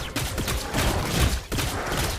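Gunfire from a hero's golden bullet attack in the Mobile Legends video game, a dense burst of rapid shots running steadily for about two seconds with a brief dip midway, loud and close over game sound effects.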